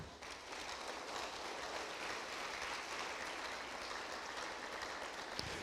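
Sustained applause from a church congregation during a sermon, a dense, even wash of clapping that holds steady for several seconds without a break.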